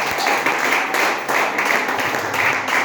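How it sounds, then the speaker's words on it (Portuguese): A church congregation claps steadily in rhythmic bursts during a worship service, loud and close, with the clapping filling the room and a faint voice underneath. "Dá palmas para Ele nessa noite."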